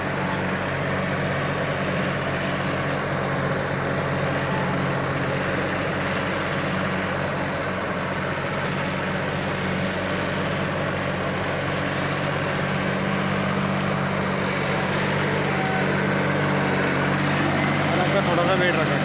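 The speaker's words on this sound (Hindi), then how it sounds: "परफॉर्मेंस देखो ट्रैक्टर की, बिल्कुल बगैर लोड के चल रहा।" A John Deere 5310 tractor running with a super seeder hums with a steady low engine drone, unloaded, while someone talks over it throughout.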